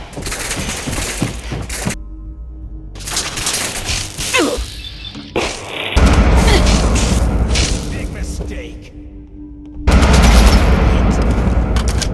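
Gunfight in Fallout 4 with bursts of gunfire and booms that come and go in clusters, loud and close at times, separated by brief quieter gaps, with someone talking over parts of it.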